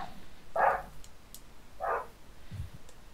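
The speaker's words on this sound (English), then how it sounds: "Sorry, that's my dog." A dog barks twice in short, muffled woofs about a second apart from across a quiet room, followed by a faint low yip.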